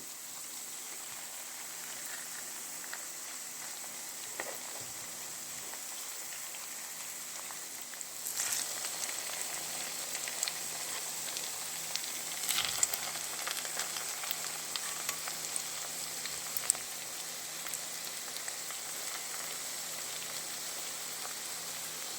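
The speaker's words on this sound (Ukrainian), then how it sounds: "Подивіться, як вони це дуже гарно смажать на такому середньому вогні." Oil sizzles and crackles steadily as pumpkin potato pancakes fry in a pan over medium heat, a constant hiss with scattered pops growing busier partway through.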